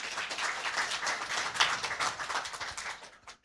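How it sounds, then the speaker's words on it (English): Conference audience applauds a professor after his theology lecture, a dense, moderately distant round of clapping that runs steadily before tapering off at the end. "Let us give him a big applause."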